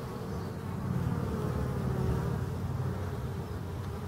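Honeybees crowd the entrance of a forest hive in spring, giving a steady, dense buzzing drone that stays close and even throughout, with no voices.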